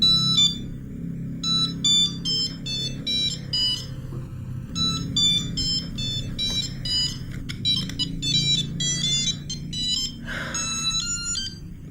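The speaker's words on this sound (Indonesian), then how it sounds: "Jawab dulu, Put, teleponnya." A telephone ringing with an electronic ringtone, a bright repeating melodic pattern of short tones that plays continuously and fairly loudly over a low background hum, with no voices.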